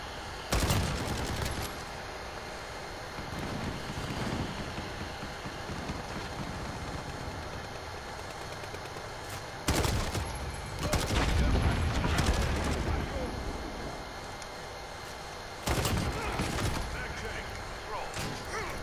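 Gunfire in the video game Call of Duty: Modern Warfare during a hardcore team deathmatch, heard as bursts of shots over a steady noisy battlefield background, with louder clusters of fire near the middle and end.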